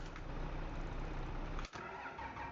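A car engine cranks and starts inside Farming Simulator 25, a steady mid-pitched mechanical rumble running throughout with a brief dip partway, then settling back to idle; no voices.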